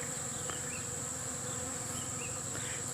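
Bees and other insects buzzing around oil palm flowers in a plantation, a faint continuous drone with a few passing buzzes close to the mic.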